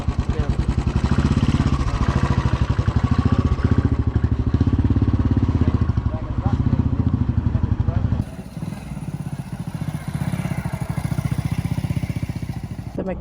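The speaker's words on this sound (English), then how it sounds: "The mechanic's just getting the bike fixed up." A motorcycle engine runs loudly and steadily close by during a roadside repair on a Sri Lanka ride, its rapid chugging pulse dropping to a lighter idle partway through, with some clatter and voices in the background.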